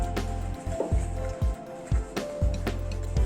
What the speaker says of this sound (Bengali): এরকম করে হাত দিয়ে রাব করে করে প্রত্যেকটা পটলের গায়ে মাখিয়ে নিতে হবে।